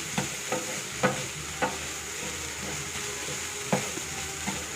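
Broccoli stuffing is stirred in a frying pan, with repeated spoon scrapes and taps over a steady sizzle, close and moderately quiet, with no voices.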